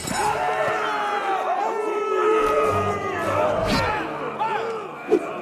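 Cheering arena crowd in a Game of Thrones game scene, a chorus of whooping, howling voices rising and falling over several seconds, with a short thump near the end.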